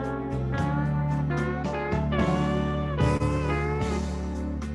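A sustained melodic instrument sliding into every note, a string of bowed-like tones each bending up into pitch, played close and alone at steady volume.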